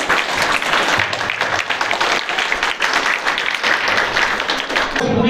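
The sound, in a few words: loud audience applause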